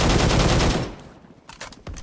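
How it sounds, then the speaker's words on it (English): Video game gunfire, a dense rapid burst of automatic shots up close that cuts off, followed by a few scattered single reports. "I'm just firing blindly, hoping it suppresses."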